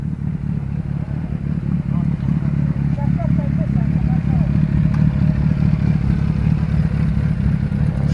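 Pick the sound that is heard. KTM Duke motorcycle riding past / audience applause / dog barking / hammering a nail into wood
KTM Duke motorcycle riding past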